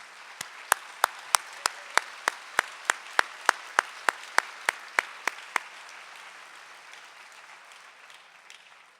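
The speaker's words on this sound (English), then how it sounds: "for a round of applause?" Round of applause at an awards luncheon, with sharp, evenly spaced claps standing out over softer scattered clapping before it all thins and fades away after about six seconds.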